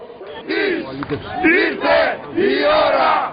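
A large crowd of protesters in Greece, demonstrating against public-sector lay-offs and wage cuts, shouts and chants in loud rising and falling surges, close and continuous.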